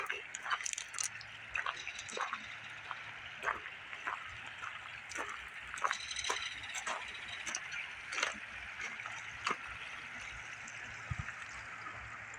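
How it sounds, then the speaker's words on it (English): A small creek trickles and babbles steadily in summer, with scattered drips and splashes standing out, and a voice speaks quietly now and then over the water. "Beautiful little creek."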